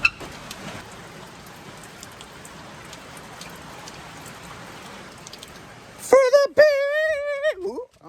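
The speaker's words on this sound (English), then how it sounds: "It's fucking pouring rain." Heavy rain pours down steadily, a dense hiss of drops hitting surfaces, until a person's voice breaks in loudly near the end.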